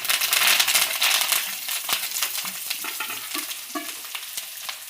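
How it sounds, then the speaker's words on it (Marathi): Green chickpea leaves tossed into garlic and green chili frying in oil, giving a loud burst of crackling sizzle that eases into rustling, crinkly stirring with a few metal clinks. "आता तेलावर लसूण आणि मिरची फ्राय झालेली आहे. आता आपण त्यात भाजी ॲड करूया."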